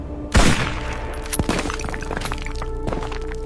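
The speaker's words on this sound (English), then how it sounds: "She locks him in through her scope and fires." One sharp, loud sniper rifle shot cracks out early, then trails into an echoing, rumbling decay over faint background noise.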